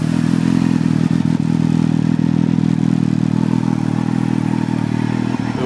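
Yamaha R1 sport bike engine on a cold start, idling loud and close with a steady, slightly uneven mechanical rumble and clatter throughout, no voices.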